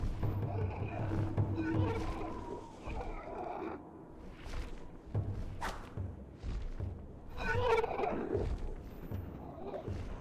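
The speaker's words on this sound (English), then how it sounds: "These kind of sound like demonic turkeys." Gargoyle creatures in the computer game AD&D Temple of Elemental Evil give turkey-like gobbling cries in repeated bursts, mixed with thuds and combat noises, with people talking over them.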